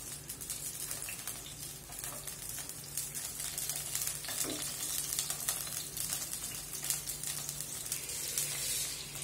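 Oil heats in a pan for a traditional village-style fish curry with coconut milk, giving a continuous quiet sizzle and hiss with faint crackles and no voices.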